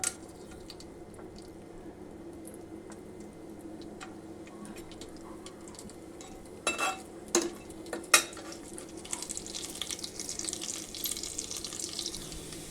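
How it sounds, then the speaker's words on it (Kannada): Cinnamon, cloves and chana dal fry in hot oil in a pressure cooker for a village-style chicken sambar. A low, steady sizzle carries a few sharp utensil clinks midway, then a brighter hiss swells toward the end, with no talking. "ಫ್ರೈ ಮಾಡ್ಕೊಳ್ಳೋಣ."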